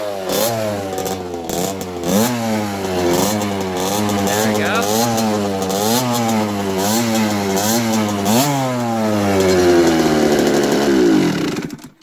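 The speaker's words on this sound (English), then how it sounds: "As you can see, now we can see it'll start up this time." A KTM motorcycle engine, freshly restarted after a carburetor clean, idles and revs in a raspy, buzzing rhythm with repeated throttle blips, loud and close, until it cuts off.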